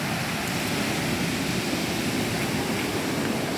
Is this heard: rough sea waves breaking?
yes